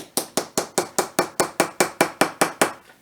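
Sharp, regular taps of a tool chiseling into the hard block of a toy dinosaur dig kit, about thirteen evenly spaced strikes close by, with no talk.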